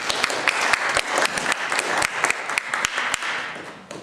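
An audience at a neighborhood association membership meeting claps for a presenter, a dense, steady round of applause filling the room.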